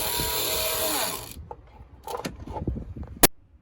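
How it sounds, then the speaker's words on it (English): A power drill boring screw holes and countersinks while mounting a Furuno FCV1150 fishfinder and Airmar B265LH transducer on a boat: a steady close whirring for over a second, then scattered clicks and handling knocks and one sharp snap. "Here we're just making some holes to attach it and also making some countersinks so that the screws do not protrude."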